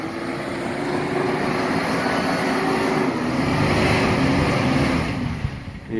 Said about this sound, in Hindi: ये आप जीप की आवाज़ें भी सुन सकते